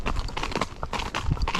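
Horse hooves clip-clop on hard ground in a quick, uneven rhythm. The steps are close and fairly loud throughout the short stretch.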